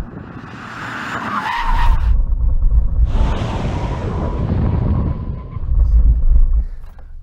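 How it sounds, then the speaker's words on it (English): An Audi RS6 and a Tesla Model X making full emergency stops from 70 mph, with loud tire squeal and skidding in two long surges alongside road and engine noise, and no talk. "now we're going to have a brake test from 70 miles an hour"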